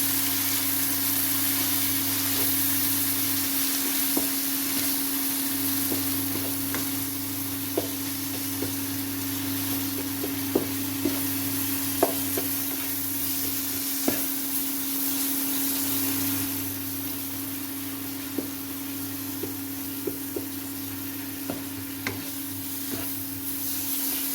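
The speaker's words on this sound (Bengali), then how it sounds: "এখন সামান্য পরিমাণ জল দিয়ে মশলাটাকে ভালো করে নাড়ি চাড়ি নিতে হবে" Spice paste with turmeric and a little water sizzles steadily in a pan while it is stirred, with scattered light scraping knocks over a constant low hum and no talking.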